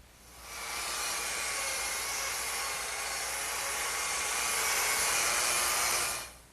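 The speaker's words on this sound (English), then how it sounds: "the first thing that I'm going to do is scrape off this excess glue and" Steady, loud whooshing hiss of a power sander running continuously over glued-up wooden boards for a kitchen hutch top, starting abruptly, holding even for about six seconds, then cutting off, with no talking.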